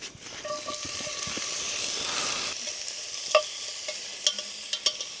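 Cubed beef and frozen potatoes frying in a pan over a smoky campfire in the Alaskan winter, giving a continuous close sizzle with scraping stirs and a few clinks toward the end.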